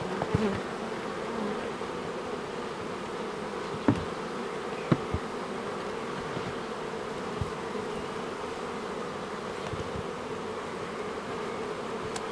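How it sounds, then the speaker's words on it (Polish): A swarm of honeybees drones continuously, a dense steady buzz filling the space, with a few faint clicks and knocks underneath. "Rodzina pszczela przepięknie się rozleciała"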